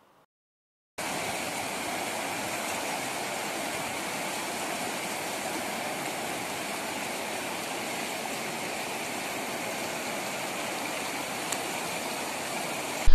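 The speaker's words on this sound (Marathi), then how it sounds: "कोल्हापुरी बंधारा फुटल्याने थेट गावात पाणी शिरले" Floodwater pours through a burst Kolhapuri-type dam in Domegaon, Ambad taluka, Jalna district, after heavy rain: a loud, continuous broadband rush of water that starts after a second of silence and holds steady throughout.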